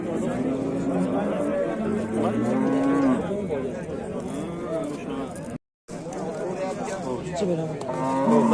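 A cow lows repeatedly in long, drawn-out calls at a livestock sale where a cow with its three-month-old calf is on offer. People talk steadily over and between the calls.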